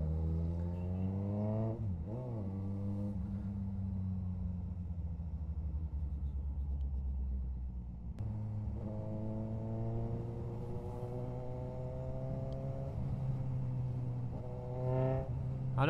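A Suzuki GSX-S750 motorcycle engine drones steadily under a ride, rising through revs in smooth sweeps, dropping briefly, then climbing again as it pulls through the gears, with no talk.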